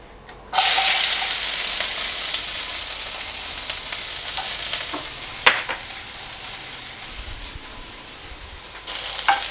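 Small shallots dropped into hot ghee in a pan, bursting into a loud sudden sizzle that settles into steady crackling frying with a few stirring clatters, gradually easing.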